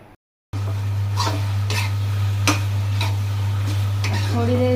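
Macaroni being stirred and sautéed in a pan, with repeated scraping and clinking strokes of a spoon over a soft sizzle and a steady low hum, closely miked.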